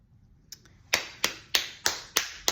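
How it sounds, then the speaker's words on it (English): Six sharp hand claps in a steady rhythm, close by, each with a quick decay, shaking dipping powder off nails after a couple of faint taps over a quiet background hum. "Shake, shake, shake it, clapping the dust off."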